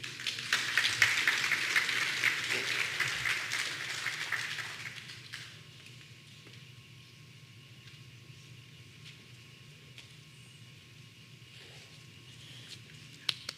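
Audience applause at a secondary school graduation ceremony, a dense broadband patter of many hands clapping for about five seconds, then fading away into quiet room tone.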